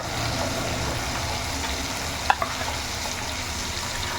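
Steady frying sizzle with occasional stirring clinks as ginger, garlic and cumin paste cook with fish, tomato and salt in a pan; constant and fairly loud, with no voices.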